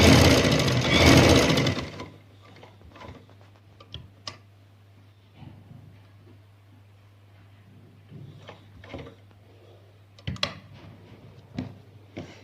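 A sewing machine stitches a trouser seam with a half-inch allowance in a loud, busy two-second run, then stops, leaving a steady low hum with scattered soft ticks and clicks.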